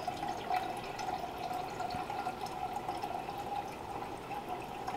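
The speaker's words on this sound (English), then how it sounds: "I hear water." Water trickles and drips steadily from an air water generator, a faint continuous liquid patter with no talking.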